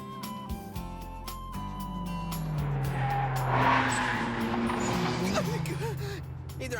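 A turbo-tuned car races along a twisting mountain pass in an anime, its engine wailing as it passes by, with tire squeal and shifting revs, while voices talk over it.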